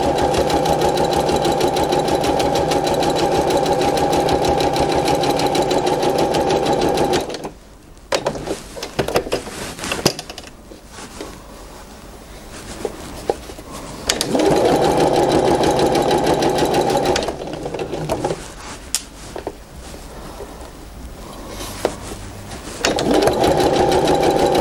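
A sewing machine stitches a seam across a patchwork Churn Dash quilt block with a quarter-inch seam allowance, running in steady bursts with two pauses where the motor stops and faint handling noises come through.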